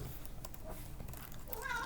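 A cat meows indoors, a few short calls near the microphone over a low background hum, the last cry rising at the end, with no speech.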